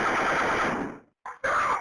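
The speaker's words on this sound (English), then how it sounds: "Then, more fake gunshots and audio of people screaming." Fake gunshots played on a hoax 911 call: a rapid burst of gunfire, loud and close, stops abruptly, then two more sharp bursts follow after a brief silence.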